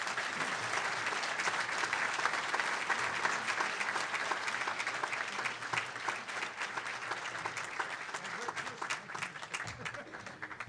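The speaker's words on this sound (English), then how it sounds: "Ladies and gentlemen, a very warm round of applause" An audience gives sustained applause welcoming Jim Durkin, Illinois House Republican Leader, at a speaking engagement: dense, continuous clapping from a large crowd that thins slightly toward the end, with faint voices in the background.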